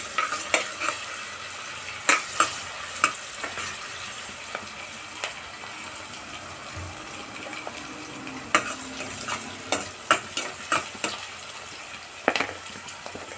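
Onions frying in oil in a pan, a steady close sizzle with scattered sharp clicks and scrapes from stirring, no voices.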